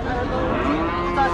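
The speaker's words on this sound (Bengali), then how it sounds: "এখানে দেখছেন গরু কেবল আসছে" Close, loud moo from cattle at a Rajshahi livestock market, one sustained low call with crowd noise beneath.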